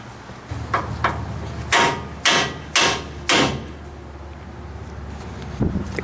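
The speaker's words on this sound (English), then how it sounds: "smack this spindle with a large hammer right here" A large hammer strikes the steering spindle of a GMT-900 Chevy/GMC/Cadillac truck with about four loud, sharp metallic smacks in close succession, followed by a lighter knock, in a quiet workshop.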